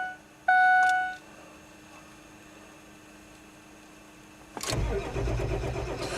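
A diesel vehicle running on number 2 diesel cold-starts in winter blizzard conditions: dashboard chimes ring first, then the engine cranks and catches into a close, rough, rumbling idle.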